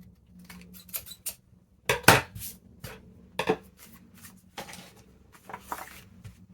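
Scissors snip through stacked 6x6 paper pad sheets being cut together, sharp crisp cuts arriving in irregular bursts with quiet pauses and paper handling between them, close and moderately loud.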